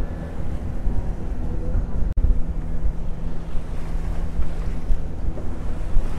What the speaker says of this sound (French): On a une belle houle qui monte.